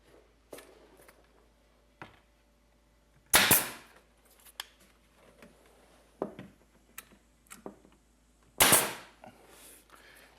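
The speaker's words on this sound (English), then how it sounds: "you can shoot a nail right through the miter like that to lock it together" A pneumatic nail gun drives nails through a mitered wood casing joint, two sharp loud cracks several seconds apart amid quieter clicks and workshop handling noises.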